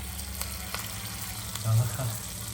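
Appam batter poured into hot oil, giving a steady close frying sizzle with a brief louder bubbling burst near the end.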